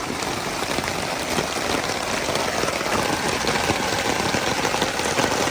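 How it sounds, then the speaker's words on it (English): Steady rain pours down in a dense, even hiss, with a faint low rumble underneath and no voices. "That's rain."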